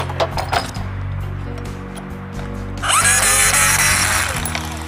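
A power drill drives screws into a wooden circuit-board vise holder, its motor whine starting partway through and running steadily to the end, loud and close after a quieter stretch of low hum and clinks.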